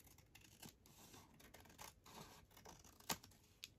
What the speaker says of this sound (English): We're going to snip here